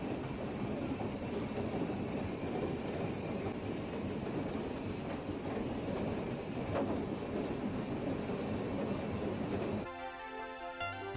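A steam train rumbles steadily past at close range, a dense continuous roar of wheels and engine that cuts off abruptly near the end.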